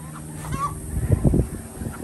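Several chickens at close range let out a short cluster of clucking, honk-like calls that rise and fade within a couple of seconds.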